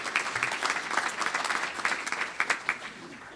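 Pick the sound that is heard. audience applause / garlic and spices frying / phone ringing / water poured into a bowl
audience applause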